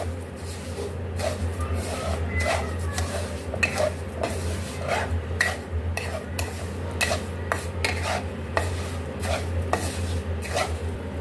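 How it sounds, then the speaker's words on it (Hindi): Sugar frying and being stirred in hot ghee in a pan for angoori halwa, giving a steady low sizzle with repeated scraping and tapping of a spoon against the pan, close and continuous with no talk. "इसी घी में हम चीनी को भूनेंगे। अब इसमें हम चीनी डाल लेंगे और इसको हमने जब तक फ्राई करें जब तक इसका कलर चेंज ना हो जाए।"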